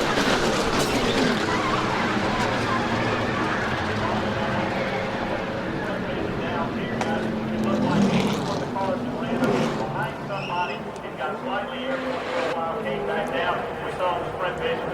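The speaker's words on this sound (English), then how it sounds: "as these cars come by at 180 miles an hour" Cars of a NASCAR Nationwide Series race at Talladega rush past at about 180 miles an hour, a loud continuous roar of engines that swells and fades as they go by, with a commentator talking over it.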